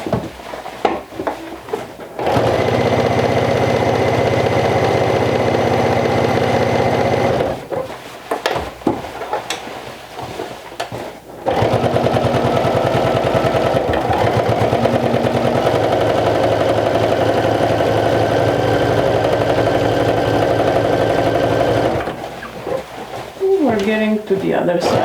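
A sewing machine top stitches a vintage jumper, its motor humming steadily through two long runs of several seconds each, with a brief stop between them.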